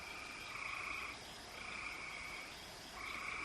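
A dense night chorus of crickets or similar calling creatures fills the background, a steady high trill that swells and eases in slow waves without pause.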